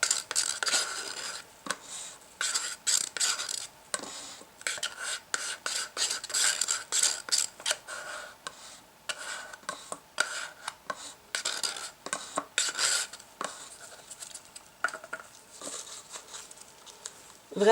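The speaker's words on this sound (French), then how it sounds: "Et donc on va venir mélanger notre résine pendant 3 minutes" A stick stirs epoxy resin and hardener in a container, a steady series of quick scraping and tapping strokes close by, fairly quiet, with no talking.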